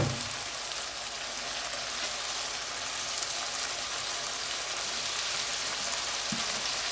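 Lamb keema fries in a pan as onion goes in, giving a steady, close, even sizzle with a brief louder crackle near the end; no one speaks.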